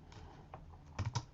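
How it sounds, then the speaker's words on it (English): Quiet typing on a computer keyboard, a few scattered key taps followed by a quicker cluster of louder clicks, close and isolated with no talking. "I'm going to be typing something"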